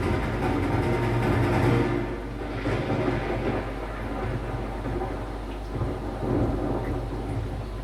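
Thunderstorm with heavy rain: low rumbling thunder rolls loudly over a constant hiss of falling rain, swelling and fading across the stretch.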